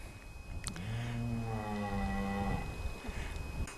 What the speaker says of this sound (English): that's why the mother cow's making a lot of noise